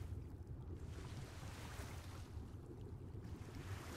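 Underwater water and wave ambience in the video game ARK: Scorched Earth, a steady low rushing wash with a soft surf-like roll, faint and continuous with no talk.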